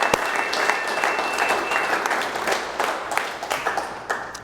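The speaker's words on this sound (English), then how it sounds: "Give her a round of applause." An office audience gives a round of applause at a June 2025 all-team update meeting, a burst of dense clapping that thins to scattered individual claps toward the end.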